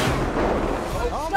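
Sniper rifle fire in the GTA 5 video game: a heavy, booming blast that fills the whole moment and rumbles on, loud and near, with talk mixed in.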